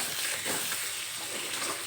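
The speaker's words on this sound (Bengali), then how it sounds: "ঢাকনা তুলে দিয়ে কিছুক্ষণ নেড়ে চেড়ে নেব।" Egg and potato curry being stirred in a pan after the lid comes off, giving a soft, continuous sizzle and hiss with faint movement underneath, heard close by with no voices.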